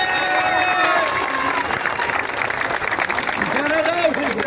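Children clapping and cheering at a rally supporting striking DYO paint factory workers, a steady crowd applause with excited young voices calling out over it.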